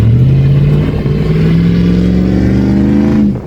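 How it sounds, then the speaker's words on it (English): A Dodge Ram truck revs hard at a car show. The engine roar sits loud and close, climbs steadily in pitch over about three seconds, then drops off abruptly. "Dodge Ram! Dodge Ram!"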